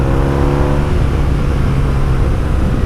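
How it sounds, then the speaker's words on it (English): A motorcycle accelerates along a twisting Spanish road, its engine loud and close, with a rising tone that gives way to steady rushing engine and wind noise. "Cheeky acceleration on the straights."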